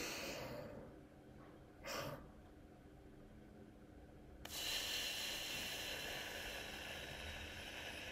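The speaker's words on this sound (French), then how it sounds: "Il s'agit d'une respiration, d'une inspiration en 2 temps, puis d'une expiration comme si on soufflait par une paille." A physiological sigh: a short two-part inhale through the nose followed by a long, steady exhale as if blowing through a straw, close and quiet with no talking.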